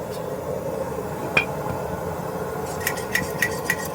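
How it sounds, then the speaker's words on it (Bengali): A lid is set on a cooking pot of snakehead fish curry with cauliflower and potato, giving a light metallic clink and then a few faint rattling taps over a steady hiss of burner and simmering. "আমি এখন ঢাকনা দিয়ে রেখে দিব 5 মিনিটের জন্য।"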